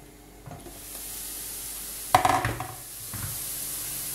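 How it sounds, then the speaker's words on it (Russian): Vegetables for a braised cabbage dish fry over medium heat in a pan, giving a soft continuous sizzle broken by a few scraping stirs of a utensil, the loudest near the middle. "Все овощи мы обжариваем на среднем огне. Перемешиваем."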